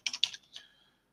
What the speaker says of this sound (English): I'm just typing in the address for Polina